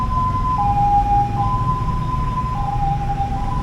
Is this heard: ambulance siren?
yes